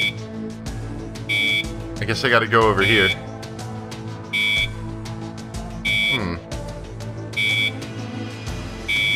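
A medical alarm in the video game Trauma Team repeats short high beeps at regular intervals, loud and clear, while someone talks briefly and game sounds sweep underneath.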